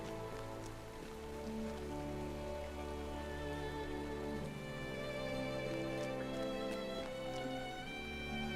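Rain falls in Lord of the Rings Online, a soft steady hiss beneath sustained musical tones, continuous and fairly faint with no voices.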